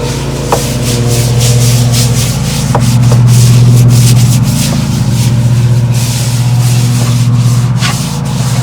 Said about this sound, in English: We're just gonna keep on scrubbing.